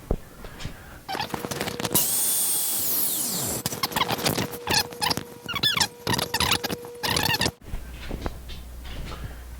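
A power tool cuts through a piece of scrap material, giving a rough, squealing, grinding sound with shifting pitch and choppy bursts before stopping near the end.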